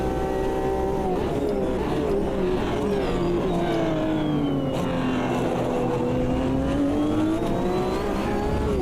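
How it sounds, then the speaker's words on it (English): Corvette race car in the sim racing game Automobilista 2, its engine droning loudly and steadily with a sweeping pitch that dips and rises through the gears, reverberating off the back of the car, with no talk over it. "The reverb coming off of the back of that Corvette sounds so good."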